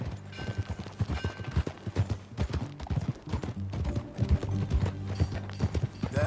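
Horse hooves clip-clopping in the Red Dead Redemption 2 video game, a steady close rhythm of hoofbeats walking along, with faint mechanical rattles underneath.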